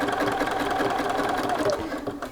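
A sewing machine edge stitches a shirt yoke with a steady, fast mechanical whir and clatter, close and continuous, while a person talks over it.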